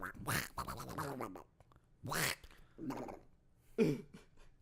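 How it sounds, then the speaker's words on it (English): Loud, harsh duck quacks come in several bursts separated by short pauses, close by, with rough noisy calls and no talking. "That was one angry duck."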